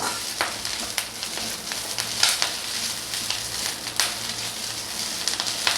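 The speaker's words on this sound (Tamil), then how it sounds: "முருங்கைக்கீரையை நம்ம வந்து வறுத்து எடுத்துக்கிறணும் நெய்யில் இதை வதக்கி எடுத்துக்கலாம்" Moringa leaves sautéing in ghee in a pan make a steady close sizzle and crackle, punctuated by soft scraping clicks from stirring at irregular intervals, with no voices.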